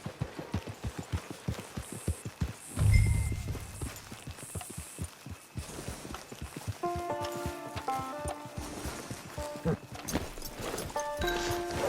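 Horse hooves galloping in Red Dead Redemption 2, a steady rapid thudding rhythm that carries through the whole stretch, close and moderately loud, with game music and ambient tones layered over it.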